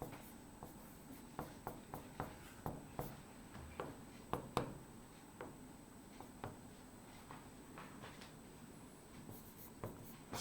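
Writing on a board during a Hindi-language chemistry lesson, giving short, irregular scratches and taps in quick strokes with pauses between them, fairly close and quiet against a faint room hum, with no talking.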